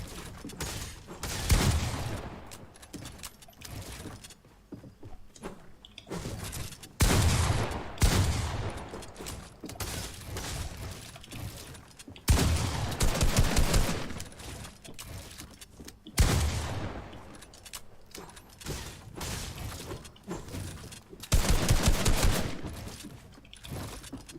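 Bursts of rapid gunfire from a Fortnite tournament match recur in dense volleys every few seconds, loud and continuous, with no talk over them.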